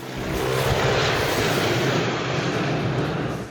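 An attacking airplane in a Cary Grant film scene sweeps overhead in a loud, sustained engine roar that swells and fades, with no talking.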